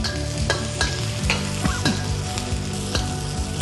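Garlic, shallot and a little chili fry in a very hot wok for a Pad Kra Pao basil stir fry: a loud, dense, steady sizzle close by, punctuated by spatula scrapes and taps, with no voices.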